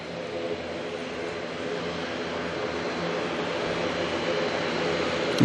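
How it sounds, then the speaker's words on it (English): An ATR turboprop taxiing at Auckland Airport at night, a steady droning engine hum and whine holding throughout and growing slightly louder toward the end, heard from moderate distance with no talk. "Beautiful ATR there heading on into the bays"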